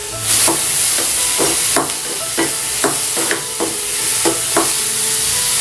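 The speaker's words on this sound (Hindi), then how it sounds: "हल्का सा सौते करेंगे" Colourful mixed vegetables sauté lightly with salt in a pan. A spatula scrapes and tosses them at an even pace, about two strokes a second, over a constant bright sizzle.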